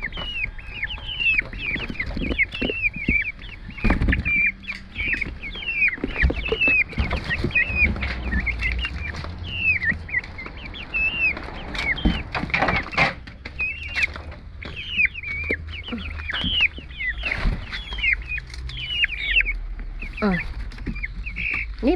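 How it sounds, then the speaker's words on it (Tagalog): Several chickens cluck and chirp constantly and close by, with bright overlapping calls across the whole stretch, along with thumps and handling noises from people nearby. "My chickens."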